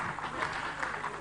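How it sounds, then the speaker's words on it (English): An audience at a national conference claps briefly in a large hall, a short burst of applause heard at moderate distance. "Let's clap for Ali."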